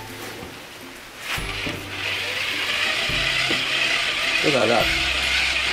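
A hand crank generator set to 12 volts is cranked in quick bursts, its ratcheting gear whirr rising and falling in several pulses close up, with a brief spoken remark over it.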